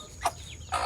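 A chicken being held clucks in two sharp, close bursts, one brief squawk and then another, over a low background hum with no talking.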